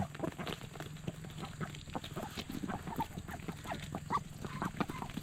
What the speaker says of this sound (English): Go ahead. Feed the chickens.